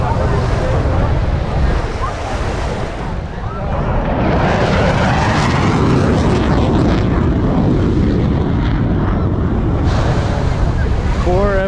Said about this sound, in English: Four F-15s over Miami Beach.